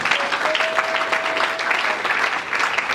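Church congregation clapping together during worship, a dense, steady wash of applause lasting a few seconds with a faint held tone underneath.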